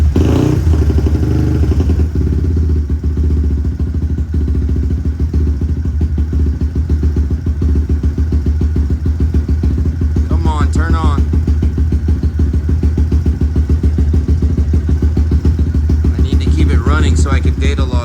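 A big bore Honda Grom motorcycle idles steadily and loudly nearby with its fast idle valve on, a low constant engine rumble with a faint clatter and brief bursts of chirping noise.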